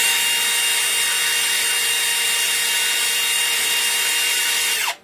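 A wire wheel is scrubbing stains off a piece of glass, giving a steady, loud, bright whirring and scraping hiss that runs unbroken and then cuts off sharply at the end.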